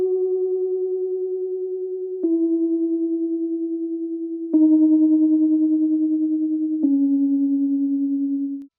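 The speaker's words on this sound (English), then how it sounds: "Lastly, I have this electric piano, which is a Rhodes." A Rhodes-style electric piano plays four sustained notes in slow succession, each with a soft attack and a gentle tremolo wobble, alone and fairly loud.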